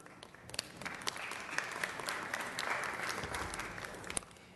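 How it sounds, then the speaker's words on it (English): An audience at a city council meeting breaks into applause, a steady mass of clapping at moderate distance that holds for several seconds with a few sharper claps standing out. "So big round of applause for all of those making this happen."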